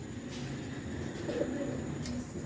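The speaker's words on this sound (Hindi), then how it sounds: "कबूतर इनके पिंजरे में है" A caged pigeon coos softly a few times against a steady low background hum, with no talking.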